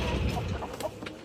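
A hen clucking on a farm, a few short soft clucks close by over a rumbling, noisy background, brief and without speech.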